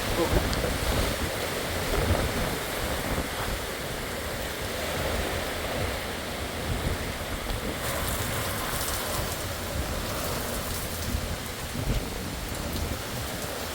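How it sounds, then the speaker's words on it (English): Heavy, steady wind-driven rain from Hurricane Milton near Disney World roars loudly and continuously, a dense rushing wash of storm noise throughout. "The storm is here."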